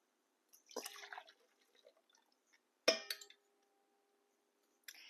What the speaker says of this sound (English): Now to the mixing bowl, I'm going to pour the milk and yeast mixture.